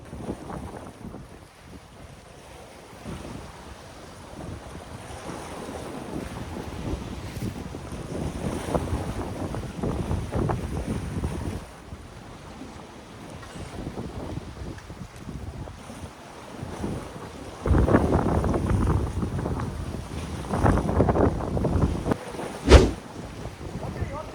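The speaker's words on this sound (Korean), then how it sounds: "바람이 너무 심해서 바람을 좀 등지고 해야 될 것 같아요" Strong wind gusts buffet the microphone on a seaside rock during fishing, with surf washing below, rising in louder blasts toward the end, while people speak intermittently over it.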